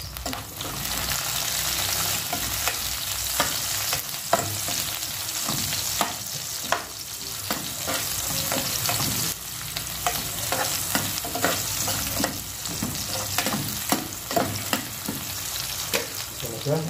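Onions fry in a pan for kinamatisang pampano, a dense, close sizzle that runs throughout, broken by frequent sharp clicks and scrapes of stirring, with no voices.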